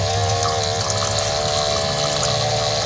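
Homemade electric water pump running with its inlet pipe in water, a constant close motor whine with gurgling water flow and splashing, steady and unbroken.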